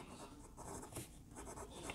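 A fine steel Yovo nib on a fountain pen scratches softly across paper in continuous, quiet strokes, smooth with slight feedback, close and alone.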